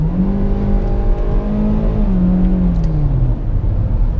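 A naturally aspirated engine in a 2021 Hyundai Elantra SEL revs up loudly and smoothly, pitch climbing then falling back, close and dominant with no talk.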